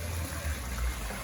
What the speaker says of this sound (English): spending the afternoon chilling with this beautiful sound of the waterfall